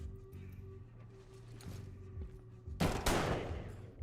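Video game shotgun fire lands as two loud, sharp blasts close together near the end, after a stretch of quieter game ambience and low musical tones.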